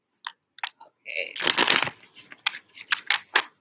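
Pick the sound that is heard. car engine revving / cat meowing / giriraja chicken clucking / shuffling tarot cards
shuffling tarot cards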